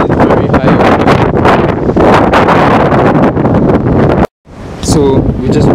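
Strong gusts buffeting a microphone outdoors on a fishing trip in Barbados, a loud continuous roar that cuts out briefly near the end, with a voice speaking under the noise.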